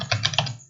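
Several quick keystrokes tap on a computer keyboard, close and crisp, about four clicks in under a second with no talking.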